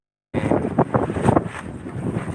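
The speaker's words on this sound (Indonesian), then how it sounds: "Angin kenceng banget." Strong wind buffets a microphone on the third floor of an open building, a steady loud rushing roar with gusty swells that starts abruptly and continues without talk.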